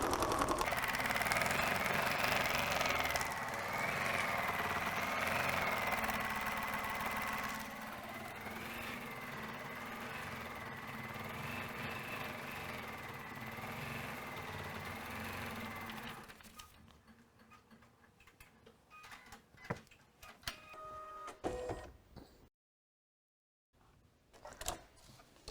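An embroidery machine stitches a tack-down of a design onto foam with a steady, rapid mechanical whirring close by, then stops, leaving scattered handling clicks and knocks.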